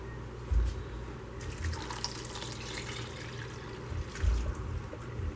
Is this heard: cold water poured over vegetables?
yes